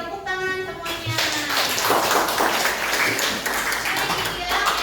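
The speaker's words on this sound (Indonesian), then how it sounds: "Oke, tepuk tangan semuanya." A class of students claps their hands together in a classroom. After a short tonal sound at the start, a burst of brisk, fairly close clapping carries on to the end.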